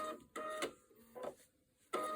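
A sewing machine stitching in short bursts as the needle is lowered, giving three brief mechanical whirring runs separated by quiet pauses, close and fairly soft, with no talking.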